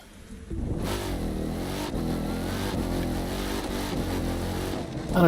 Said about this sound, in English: does that engine sound a little anemic to you? It's missing some bass, maybe.